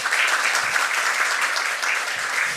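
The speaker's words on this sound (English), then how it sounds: "Let's give TTT a round of applause." Applause from an audience at a formal launch ceremony, a steady even roar of many hands clapping, moderately loud and continuous.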